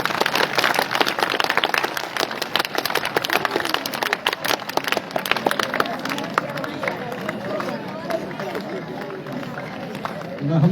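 An audience in a school hall applauds steadily as the principal is welcomed onto the stage, a dense, sustained clapping with a crowd murmur underneath that eases slightly toward the end.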